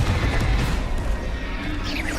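A Confringo fire spell blast in the video game Hogwarts Legacy, a dense low rumbling boom with crackling debris that holds steady and loud through the whole burst.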